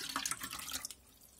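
Filtered water pours from a container, a short trickling splash that stops abruptly partway through, close and quiet.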